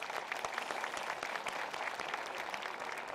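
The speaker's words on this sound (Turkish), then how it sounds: "Bütün hemşerilerinin, seçmenlerinin önünde kendisini yürekten alkışlıyorum." A crowd at a CHP political event for a Nilüfer municipality health museum breaks into sustained applause, a thick, even clatter of many hands that continues without pause.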